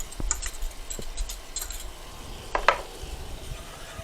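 Butter and carbulose flour cooking together into a blonde roux in a pot, with soft stirring scrapes and faint sizzle, plus a few light utensil clinks against the pan.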